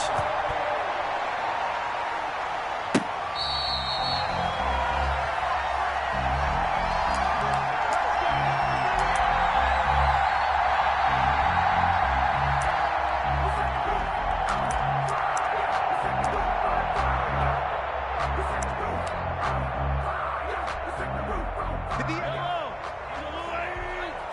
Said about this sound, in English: This crowd is ready as their guys get set to match up with the Baltimore Ravens.